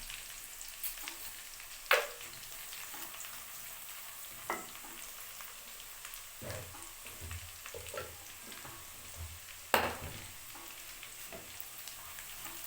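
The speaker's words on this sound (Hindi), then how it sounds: "अब इस टाइम पर मैं इसमें डालती हूँ 1 चम्मच ज़ीरा।" Cumin seeds and fried onions sizzle steadily in a pan while a spoon stirs them, with a few sharp scrapes and clinks of the spoon against the pan standing out over the continuous frying hiss.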